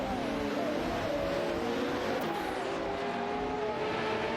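Bugatti and McLaren race cars in a racing video game roar together in a steady, loud engine drone with rising and falling harmonic whines as they battle, one passing sweep midway.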